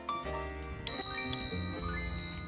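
The bell on an X-Treme Catalina 48 volt electric bicycle rings twice in bright metallic dings about half a second apart, with ringing tones lingering close by over a faint hum.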